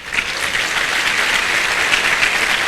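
An audience applauds Federal Police students at an Augusto Cury lecture, a dense, steady burst of clapping from a large crowd, loud and continuous with no talk.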